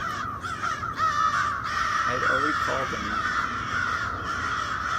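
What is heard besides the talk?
crows cawing on a roof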